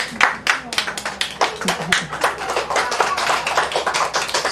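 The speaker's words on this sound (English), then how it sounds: "Give him a big round of applause." An audience at a 2006 public library summer program claps in a dense burst of applause, steady and fairly loud throughout, with a few louder claps standing out near the start.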